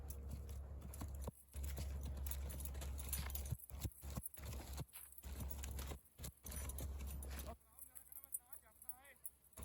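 A horse being ridden for the first time by young men gives irregular hoof clip-clops, partly masked by steady wind rumble and chopped sound, with voices talking briefly.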